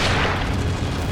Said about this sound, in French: Ma sortie va faire un énorme BOUM!